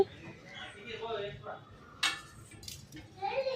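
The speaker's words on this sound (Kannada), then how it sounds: "ನೋಡಿ, ಒಂದು ಪ್ಲೇಟ್ ಮುಚ್ಚಿ ಇಟ್ಬಿಡೋಣ ಒಂದು 30 ನಿಮಿಷ" A plate is set over a bowl of fenugreek and dill-leaf paratha dough, making a single brief clink amid a person talking nearby.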